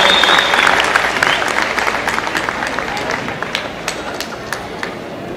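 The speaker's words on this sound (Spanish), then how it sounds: "Brindémosle un caluroso aplauso de reconocimiento a los alumnos graduantes." Applause from an audience at a 2019 high school graduation ceremony in Puerto Peñasco, with students rising; dense, sustained clapping that stays loud and even, with a few sharper claps standing out.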